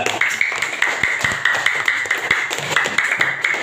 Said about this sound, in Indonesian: Beri tepuk tangan pada kelompok 2.